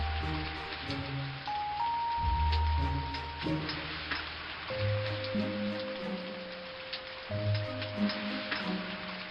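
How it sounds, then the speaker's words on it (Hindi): Steady patter of rain on a surface beneath sustained musical tones, with soft droplet ticks scattered throughout. "रास्ते में बारिश होने लगी।"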